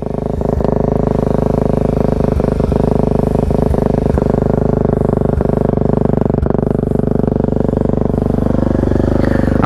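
Suzuki DRZ400 dirt bike fitted with a Black Widow exhaust, ridden on trails, running loud and close with a steady throbbing engine note, rhythmic clatter and a rising rev near the end.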